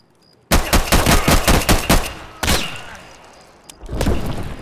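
Automatic gunfire in the video game Escape from Tarkov, a loud rapid burst of about ten shots, then a single heavy shot with a long echo and a further rumbling burst.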